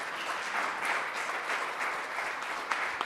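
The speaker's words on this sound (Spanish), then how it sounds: "Demos un aplauso más grande al Señor" Audience applause fills a church gathering, a steady, moderately loud wash of many hands clapping throughout the short stretch, with a couple of sharper claps standing out near the end.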